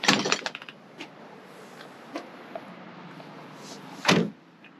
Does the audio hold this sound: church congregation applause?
no